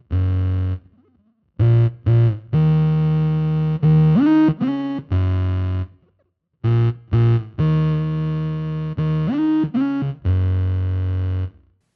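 Bass guitar run through a Fractal Audio preset with a synth pitch shifter adding a voice one octave up, playing a start-stop riff of distorted, buzzy notes with quick pitch glides between phrases, separated by short silent gaps.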